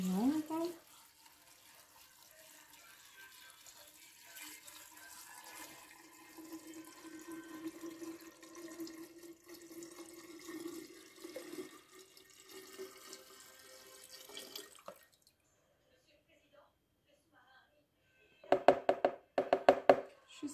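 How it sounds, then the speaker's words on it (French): Alcohol poured from a bottle over lemon zest and ginger in a jar, a steady liquid trickle and gurgle lasting about fifteen seconds, followed by a pause and a few sharp knocks of a lid or glass near the end. "Je verse sur les zestes de citron et le gingembre."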